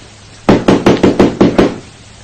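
Seven sharp, evenly spaced knocks on a wooden door ring out close and loud, a radio drama sound effect in a Cantonese ghost story, starting after a brief quiet pause.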